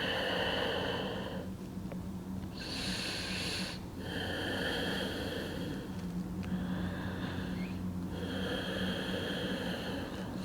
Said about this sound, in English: and just breathe into it.